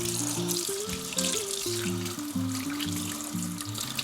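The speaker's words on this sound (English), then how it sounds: "So make sure you wash your hands nicely" Water runs steadily from a kitchen sink tap while hands are washed beneath it, a continuous close splashing rush with no voices; sustained tones from a background tune sit under it.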